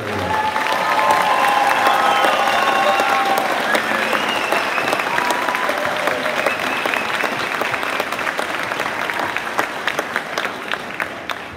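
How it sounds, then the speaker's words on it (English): A crowd at a 2022 high school graduation ceremony applauds, loud sustained clapping with a few cheers that gradually tapers off. "Can we have a round of applause for our third?"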